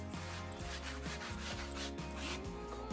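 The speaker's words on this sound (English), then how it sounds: "coarse sanding block." Steady back-and-forth rubbing of coarse abrasive on wood, continuous and close, over faint background music.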